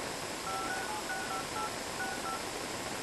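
Faint keypad touch tones from a first-generation iPhone phone app dialing a number, a quick series of beeps in small groups over steady hiss, no talk.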